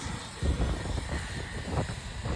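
An Arrma Outcast EXB RC car on a 4S battery at full throttle gives a steady, fairly loud motor whine and rumble with a couple of surges, heard alone.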